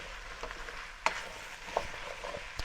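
Carrots sweat in oil in a pan for soup, giving a faint soft sizzle with a few light stirring clicks and taps.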